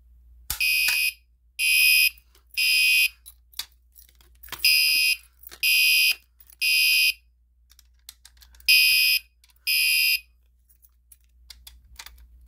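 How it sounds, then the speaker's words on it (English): A Gentex Commander 3 fire alarm horn sounding after a Simplex break-glass pull station is activated, loud harsh electronic blasts in a regular temporal pattern of three, pause, three, with faint clicks between. "so let's go ahead and pull the fire alarm now"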